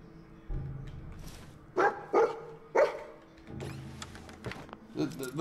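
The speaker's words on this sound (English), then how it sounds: "the dog's barking sounds like it's, like, in here with me, but it's not" Dog barking in Fallout 4: several sharp barks in quick succession, loud and close, followed by quieter yips and whimpers as a person talks over the noise.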